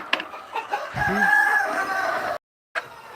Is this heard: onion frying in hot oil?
no